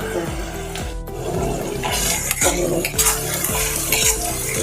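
A utensil scrapes and stirs ingredients for Schezwan chutney in a pan in steady repeated strokes, with light clinks against the metal and a soft background hum, close and moderately quiet.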